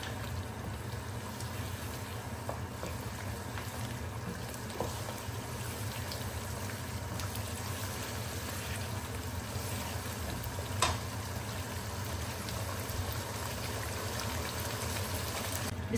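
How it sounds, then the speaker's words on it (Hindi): Mutton karahi cooks on high heat in an open pan, a steady, even sizzling and bubbling that continues unbroken at moderate level with no talking. "अभी मैं इसको जस्ट 5 मिनट्स थोड़ी सी हाई हीट पे इसको"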